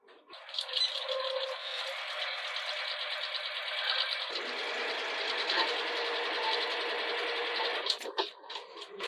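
A sewing machine runs steadily, stitching a seam on a sports bra, its close, continuous rapid whirring and rattling held for several seconds before stopping near the end.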